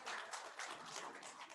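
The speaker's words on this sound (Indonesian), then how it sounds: "Bapak Ibu para undangan boleh kita berikan tepuk tangan." Audience applause at a formal census kick-off ceremony in East Java, a steady, dense patter of many hands clapping throughout, fairly close and continuous with no pauses.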